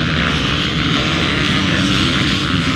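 A pack of race engines roars into the first corner of a race, a steady, loud, dense drone that holds without a break and without talk.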